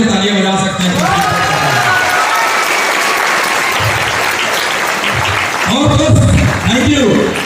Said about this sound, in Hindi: इसके लिए आप यहाँ तो तालियां बजा सकते हैं